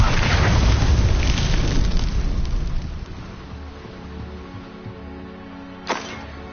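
A Confringo fire spell explodes in Hogwarts Legacy, a loud booming blast with crackling fire that rolls off and fades over a few seconds, followed later by a brief sharp pop.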